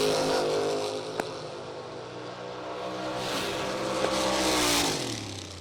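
A flame-painted drag racing roadster with louvered front fenders roars down the strip on its run. The engine holds a loud, sustained drone that rises in pitch, and there is a sharp pop early on.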